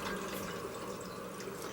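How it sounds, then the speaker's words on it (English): Cold tap water running steadily into a cooking pot, a close continuous rushing splash with no talk. "So we're going to fill this up with a little bit of water."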